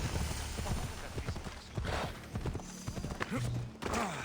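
Horse hooves clattering on rocks in the video game Assassin's Creed Odyssey, a rapid irregular run of close clip-clop knocks with faint voice-like sounds in the background.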